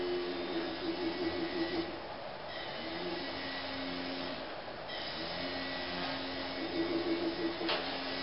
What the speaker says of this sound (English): You want to keep the motor speed slow.